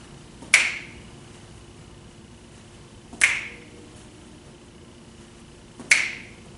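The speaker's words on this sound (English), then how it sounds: "Every time we step to the right, we're going to snap our fingers one time, like this." Three crisp finger snaps land alone at even intervals of roughly two and a half seconds, keeping time for a stepping move in a dance routine, each snap sharp and close with a brief ringing tail.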